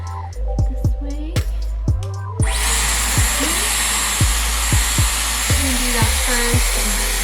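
Dyson Airwrap styler blowing hot air, starting as a loud, steady, high-pitched whooshing hum partway through and running continuously, with a few sharp clicks and knocks from handling before and during.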